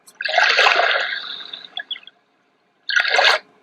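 Rushing, bubbling water like a flowing stream from the river setting of a PICTEK night light white noise machine, loud for a couple of seconds, then a pause and a short second burst.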